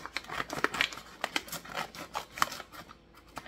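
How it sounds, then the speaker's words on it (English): Scissors snip through material while kombucha is brewed at home, a quick run of crisp, close cuts and rustles with no talk. "now I'm just gonna take some scissors, and I'm gonna cut it like so"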